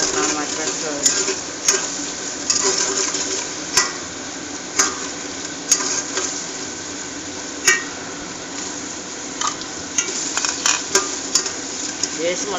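Spices, ginger paste and cashews fry in oil for a simple prawn biryani, a continuous sizzle broken by repeated sharp clinks of a utensil stirring against the pan.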